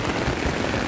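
Heavy rain pours steadily onto a surface near a rooftop, a dense, even hiss with no pauses over a short stretch.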